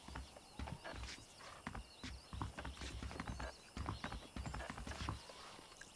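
Horse hooves clop steadily at a walking pace in Red Dead Redemption, with occasional whinnies and creaking tack, mid-distance against a quiet outdoor background.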